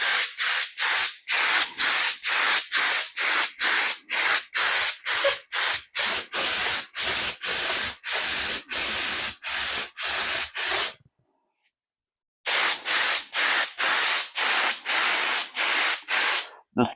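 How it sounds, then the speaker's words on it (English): A spray gun lays clear coat onto a 1979 Corvette, loud hissing bursts in a steady series of short pulses with brief gaps, then a pause of about a second before the spraying resumes. "pour it in and start spraying."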